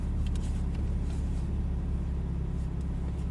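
A Porsche Cayman GTS rolls out slowly toward a racetrack, its engine a steady low rumble at close range with a faint idle-level drone and no sharp revving, running continuously throughout.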